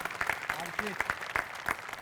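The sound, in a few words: audience applause for the art department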